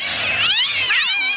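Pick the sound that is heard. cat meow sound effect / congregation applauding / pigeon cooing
cat meow sound effect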